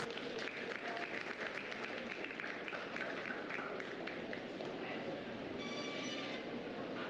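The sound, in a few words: audience applause at a 4-H sheep show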